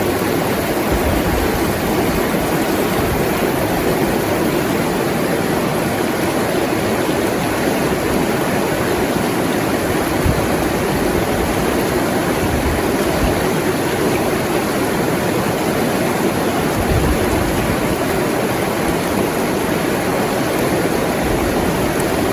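A river flows past a riverside camp in Rancabali, Bandung, its water rushing as a steady, loud, full-bodied wash that never lets up.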